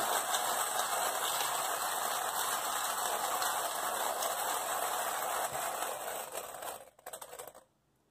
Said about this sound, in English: we'll grind through this very quickly here